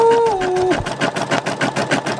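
An embroidery machine stitching out a patch gives a steady rhythmic pulse of needle strokes, loud and close, starting after a brief tonal beep.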